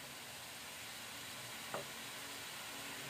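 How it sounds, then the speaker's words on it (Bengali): Carrots frying in ghee for carrot halwa, a steady soft sizzle with a brief louder stir scrape midway, close and alone, with no talk. "গাজরটাকে ভালো করে ঘিয়ের মধ্যে এভাবে ভেজে নিতে হবে"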